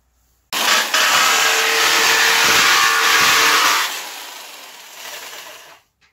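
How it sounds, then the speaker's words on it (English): Power drill cutting a pipe hole through the thin metal wall of a bucket stove for a hot tent, one loud sustained whining, rasping burst of about three seconds that eases to a lower grind before stopping. "Okay, so we got our hole drilled"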